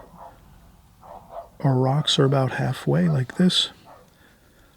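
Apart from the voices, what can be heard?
neighbor's dog barking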